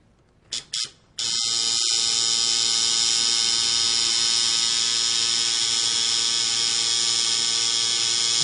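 A tattoo machine starts with a couple of short bursts, then runs as a continuous steady electric buzz while a line is worked into skin, close and loud.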